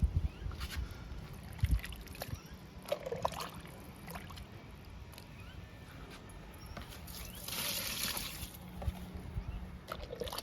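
Liquid fertilizer made from kitchen waste is poured onto a fruit plant, giving soft trickling and splashing over steady background noise, with a louder gush of liquid near the end.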